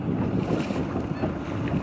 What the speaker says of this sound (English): no other sound apart from the waves and the birds